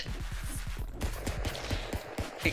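Rapid bursts of gunfire in a video game, a quick run of sharp repeated shots followed by a few scattered single reports, steady and close over constant game background noise.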